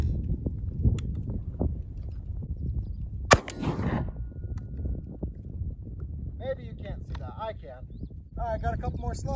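An RIA budget single-shot shotgun fires one 2¾-inch 7-shot shell: a single loud, sharp blast over wind rumble outdoors, with voices talking afterward.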